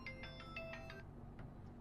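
An outgoing phone call rings out as a faint, quiet ringback tone: several short repeated electronic pulses in a steady rhythm, then one more after a pause, with no talking.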